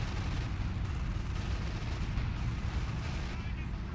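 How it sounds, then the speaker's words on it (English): A Brummbär assault gun fires in a World War II video game battle. A heavy, low boom sits inside a constant rumble of distant battlefield noise. "Brumbar takes a shot."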